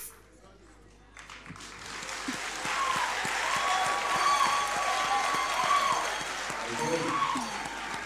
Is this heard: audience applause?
yes